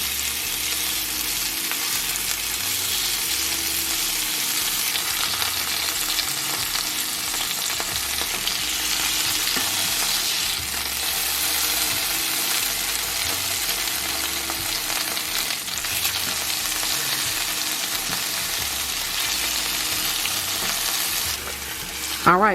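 Boneless skinless chicken breast searing in a pan gives a loud, constant close-up sizzle of frying, with occasional stirring or shifting noises and a brief clatter at the very end; no talking.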